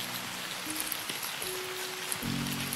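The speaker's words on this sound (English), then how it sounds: "But it's still raining." Rain falling in a forest, a soft continuous patter of drops on leaves and surfaces, faint and steady, with a couple of brief tonal hums in the background.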